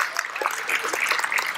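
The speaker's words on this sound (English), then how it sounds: "give the Lord a clap just for the heaven of it." A church congregation claps together at a conference worship session, a short burst of scattered, crackly hand claps, fairly close and steady, with no clear voices over it.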